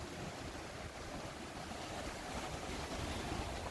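A fast-flowing creek in the Smokies, running high and over its banks, gives a steady broadband rush of water, constant and moderately distant, with no voices.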